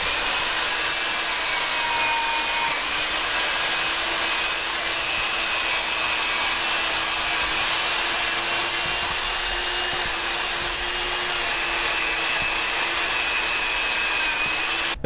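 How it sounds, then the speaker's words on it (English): A Dremel rotary tool fitted with a metal wheel grinds RTV sealant off an engine timing cover. It gives a continuous high-pitched whine, close and steady for the full stretch, with no talking. "So I'm actually using my Dremel."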